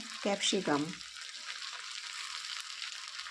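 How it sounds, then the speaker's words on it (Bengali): Sliced capsicum fries lightly with onions in a pan, a soft continuous sizzle heard after a brief bit of speech at the start. "ক্যাপসিকামটাকেও আমি হালকা করে ভেজে নেব এই পেঁয়াজের মধ্যে"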